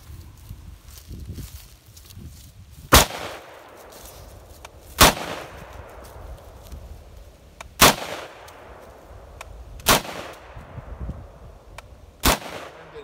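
A Tavor rifle fires five sharp single shots, spaced a few seconds apart, fired left-handed; loud, close reports with quiet handling noise between them.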